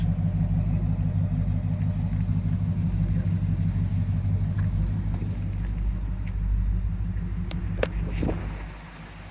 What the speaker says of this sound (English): the headers and the exhaust really wake it up. Got a cool sound.